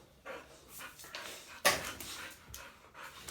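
A female Dogo Argentino puppy pants in quick, breathy bursts with a few soft whimpers, close by, with one sharper knock partway through.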